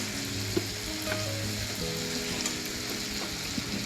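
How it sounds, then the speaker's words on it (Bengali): Chopped tomatoes frying in a cooked-down spice masala in a pan, a steady close sizzle with faint stirring scrapes throughout and no talking. "এবার আমি দিয়ে দেবো এর মধ্যে কেটে রাখা টমেটো।"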